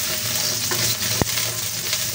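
Garlic sautéing in a hot pan as the base for lomi with chicken liver and gizzard, a close, even sizzle with a single sharp tap midway and no talking.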